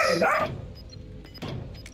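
A dog in a video game lets out a quick, loud bark at the start, followed by quieter game noises and a brief second burst.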